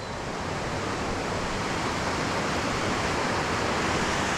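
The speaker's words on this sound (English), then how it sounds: "you can hear the water's raging at the moment" Powerful, unbroken roar of a fast-moving river swollen by heavy rain, steady and fairly loud, with no talking.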